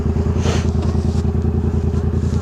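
Yamaha MT-07 motorcycle fitted with a Jeskap GP3 exhaust without a baffle, riding along with a loud, close, steady pulsing engine rumble and rhythmic firing beat.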